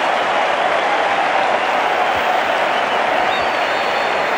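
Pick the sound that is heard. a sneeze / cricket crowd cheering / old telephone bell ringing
cricket crowd cheering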